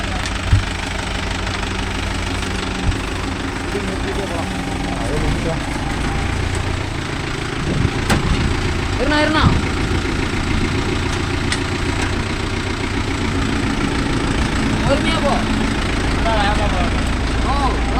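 A new Mahindra Yuvo Tech Plus 585 4WD shuttle-gear tractor runs with a steady, knocking diesel idle outdoors, close and continuous, while people talk over it.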